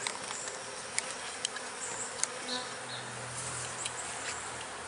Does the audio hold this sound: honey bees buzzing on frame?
yes